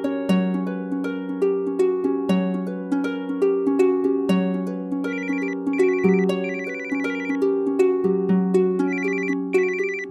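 A telephone ringtone plays a repeating melodic pattern of bright electronic tones, loud and clear, looping steadily for the whole stretch with no voices over it.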